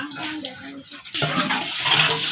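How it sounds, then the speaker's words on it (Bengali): A tap runs while things are washed at home: water splashes softly at first, then gushes louder and steadier after about a second. "দেখো এখানে ট্যাপ আছে তো তার জন্য এখানে ধোয়া হয়ে যাচ্ছে"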